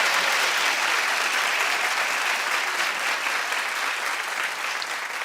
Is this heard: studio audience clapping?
yes